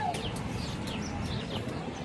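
Birds, sounding like farm fowl, give short repeated clucks over a constant background wash, with several brief calls spread across the moment.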